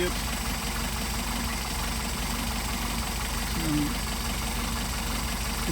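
A Mercedes 190SL engine with Solex carburetors idles steadily throughout, a constant low mechanical rumble with a faint tonal shift near the middle, with no talking over it.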